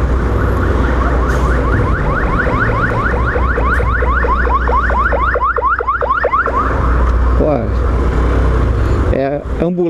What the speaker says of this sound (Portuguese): Ambulância pra lá com a sirene ligada